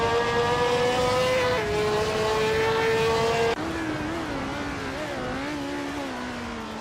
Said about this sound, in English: Lirache is racing a March 751, a classic F1 car known for its agility